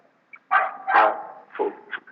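A dog gives a short cluster of barks and yips nearby, several quick bursts over about two seconds with no talking.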